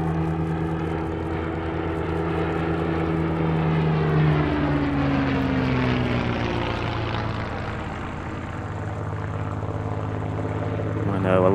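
A clipped-wing Spitfire, retrofitted after the war with shortened wingtips, flies past at a vintage airshow, its propeller engine droning steadily and loudly with a slowly shifting pitch throughout, while a voice speaks intermittently over it.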